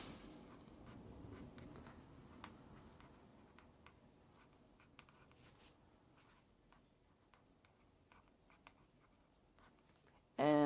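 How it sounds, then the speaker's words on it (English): Pen scratching across the pages of a journal, a quiet, continuous stroke texture with a few faint ticks, close and soft in a calm room, followed by a brief louder burst at the end. "while I'm writing things down, I'm going to go ahead and write down what today is"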